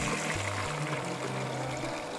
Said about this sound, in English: I'm just gonna pour this through a little sieve into a bowl.